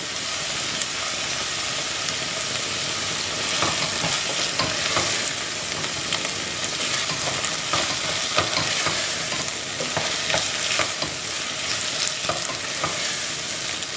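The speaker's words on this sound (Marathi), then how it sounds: "आता न्हू आमी अनियन्स आणि टोमॅटो सॉटे करूया अंटील टोमॅटोज आर सॉफ्ट" Onions and tomatoes sautéing in a pan with salt, a loud continuous sizzle and frying hiss with occasional stirring scrapes, steady from start to finish.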